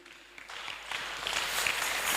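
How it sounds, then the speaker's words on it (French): A church congregation breaks into applause to acclaim Jesus, the clapping swelling from scattered hands into a dense, steady crowd sound over about two seconds. "On acclame le Seigneur Jésus"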